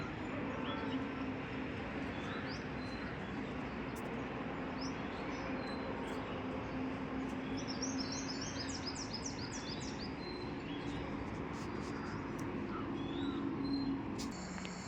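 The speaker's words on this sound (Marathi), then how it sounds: "पक्ष्यांचा आवाज बघा किती छान येतो" Birds chirp outdoors as heard from a terrace, faint scattered tweets over a steady wash of distant highway traffic, continuing throughout without talk.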